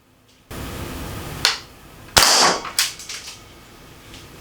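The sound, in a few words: Umarex Strike Point air pistol firing pellet into spam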